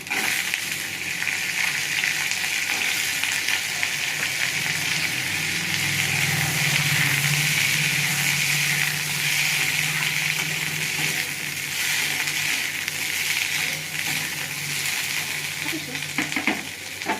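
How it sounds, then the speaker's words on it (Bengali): Sliced bitter gourd, long beans and potato fry in a pan, giving a steady, even hiss that runs the whole way through with faint stirring and clinks, while a voice speaks quietly now and then. "আমার সবজি একটু হালকা ভাজা ভাজা করে দিয়েছি"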